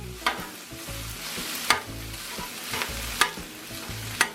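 Rice browning on a Blackstone griddle for jambalaya, a steady sizzle broken by sharp, regular spatula scrapes and taps about every second and a half, close up and with no voices.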